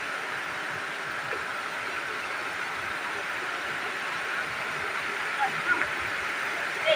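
A steady, even rush of falling water at Bhatindra waterfall fills the air without pause, loud and constant, with faint voices and small sounds now and then.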